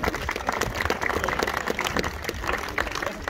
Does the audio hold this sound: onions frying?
no